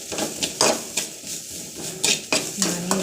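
Ginger garlic paste being sautéed in a pan for an egg cabbage podimas, heard as a run of close metal scrapes and clinks of a spoon against the pan, with no talk.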